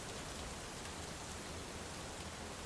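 Steady rain falls on a small lone house in a calm, even hiss with no breaks, soft and distant, with no voices or thunder.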